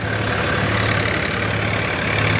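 A tractor engine idling steadily with a loose exhaust pipe, a continuous loud low throb and rattle that stays even throughout, with no talk.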